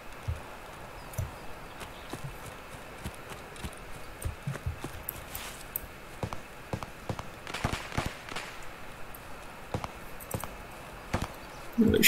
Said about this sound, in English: These aren't AI gunshots.